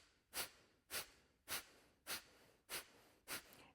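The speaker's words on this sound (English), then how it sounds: "So first, it's going to be the exhales." Six loud, forceful exhales, rhythmic and evenly spaced, come from a yoga breathing exercise, each a sharp close burst of breath through the nose with the belly pulling in. No one speaks.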